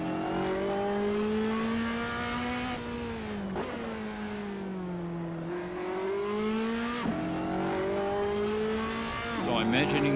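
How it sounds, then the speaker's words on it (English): A race car's engine drones steadily with shifting pitch during a lap at the Adelaide circuit, broken by a few sharp, brief exhaust pops and crackles. "I heard some sort of exhaust backfire that I don't normally hear."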